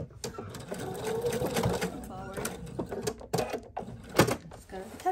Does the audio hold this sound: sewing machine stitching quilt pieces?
yes